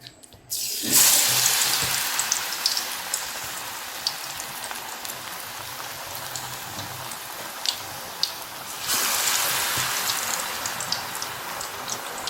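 Spoonfuls of batter mix drop into well-heated oil and fry with a loud, dense, crackling sizzle that starts abruptly and holds steady, then swells again toward the end.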